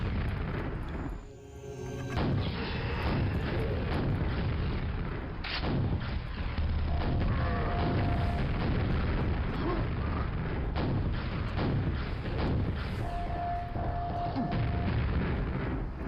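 Repeated heavy booms and blasts of rocket launcher explosions in the Doom and Quake video games, loud and nearly continuous over about sixteen seconds with a brief dip early on, mixed with other game sounds.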